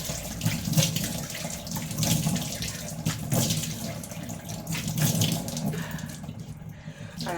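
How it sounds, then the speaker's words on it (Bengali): Tap water running steadily into a sink while a face is washed, a constant close splashing stream with faint hand splashes that thins out near the end. "চলো এটা মেখে মুখটা ধুয়ে নিই।"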